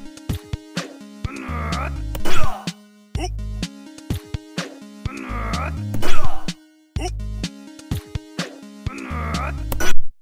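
Calligraphy cue from the Rhythm Tengoku rhythm game repeats three times in a regular cycle: a short musical phrase of low tones rising into a swishing brush-like sweep, loud and clear with no talk.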